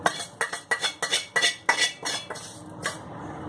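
Grated coconut being roasted in a pan for a Malvani onion and coconut masala, a utensil scraping and clinking against the pan in quick, rhythmic strokes that fade toward the end.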